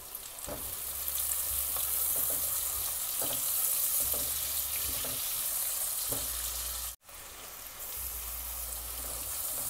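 Kale and broccoli hit a pan of fried onions for a saag, setting off a loud, continuous sizzle with scraping stirs, a sudden brief cut, then the frying resumes just as strongly.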